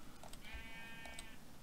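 A Minecraft sheep lets out a single short, wavering bleat, close and clear over a soft ambient backdrop.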